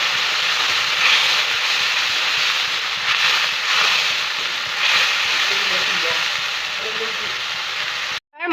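Masala paste, ground with water in a mixer, fries with onions in a pan for a jackfruit curry, giving a steady, close, loud sizzling hiss that lasts throughout and cuts out briefly at the very end.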